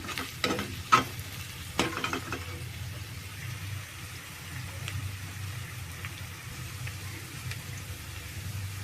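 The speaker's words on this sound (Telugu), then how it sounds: "ఒకసారి కలుపుకుందాం, కారం అంతా కలిసేటట్టు." Crab curry with chili powder, ginger-garlic paste and spices is stirred in a pan: a few sharp scrapes and knocks of the spoon come near the start, then a low, quiet simmer-sizzle runs beneath.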